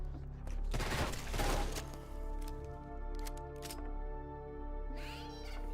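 Gunfire in the heavily modded video game Left 4 Dead 2 comes as a few rapid bursts of shots over a steady tonal hum and music, followed by scattered single cracks.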